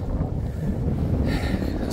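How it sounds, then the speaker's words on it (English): Strong wind on the South Downs Way hiking trail, a constant low rumbling roar of gusts buffeting the microphone, steady and close with a slight hiss rising near the end. "Windy as hell today."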